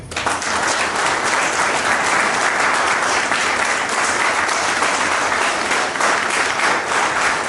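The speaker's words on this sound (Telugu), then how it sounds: "గట్టిగా చప్పట్లు." Loud, continuous audience applause at a leadership development seminar, a dense wash of many hands clapping that holds steady from start to finish.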